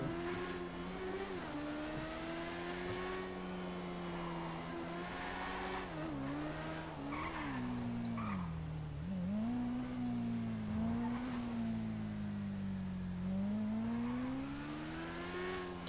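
A car in GTA 5 drives on with a steady, droning engine note that rises and falls as it speeds up and slows, with a faint tire scrub now and then and no talk.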